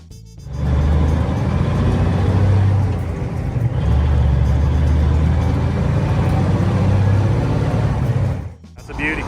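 A 1974 Kenworth W900 truck engine starts and settles into a loud, deep, rumbling idle close by, with a steady low throb that holds for several seconds before briefly dipping near the end.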